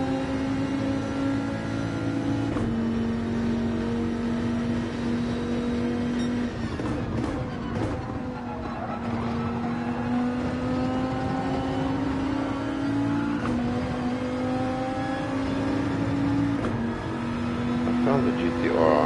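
A GT-R race car engine in the Gran Turismo racing game at Monza drones loudly and steadily at high revs, with slight pitch shifts from gear changes and other cars nearby, while a voice talks over it.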